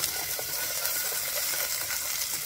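Onion frying in a hot pan for vegetable soup, a loud, dense, steady sizzle heard up close and continuous, with no talking.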